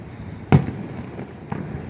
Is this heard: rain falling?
no